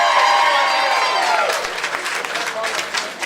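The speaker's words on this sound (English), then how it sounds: "Start clapping for him" Audience clapping for a stand-up comic at the Showdown at the Showcase comedy contest, loud and dense at first, thinning into scattered claps as a host keeps talking over it.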